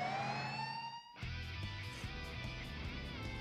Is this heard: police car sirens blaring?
yes